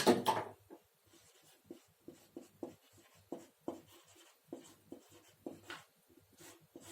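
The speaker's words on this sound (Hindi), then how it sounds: "लिखते हैं" Chalk or pen writing during a school chemistry lecture, a run of short scratchy strokes in irregular rhythm, close and fairly faint, with no talk over it.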